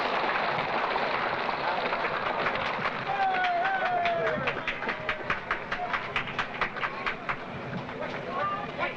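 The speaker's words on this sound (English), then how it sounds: "The train is moving now into place for loading" A train at 1959 Disneyland moves into place for loading, rolling with a steady run of rhythmic clickety-clack wheel beats and a squeal partway through, under a broad crowd-like wash of noise.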